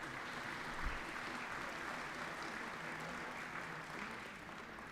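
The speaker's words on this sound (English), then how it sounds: "Go ahead and clap for them." A Hall of Fame ceremony audience claps for a sponsor, Town Branch Distillery, as a soft, even patter of many hands, fairly distant and low in level for the whole stretch.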